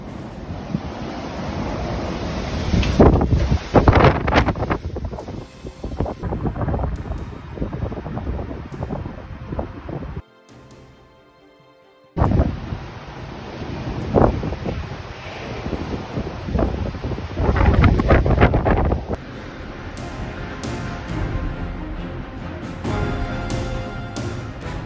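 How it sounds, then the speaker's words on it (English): Strong gusts from Storm Eunice roar across an open Dutch landscape with loud, continuous rushing noise and buffeting on the microphone, swelling and easing, with a brief sheltered lull midway. "105 kilometer per hour wind gust."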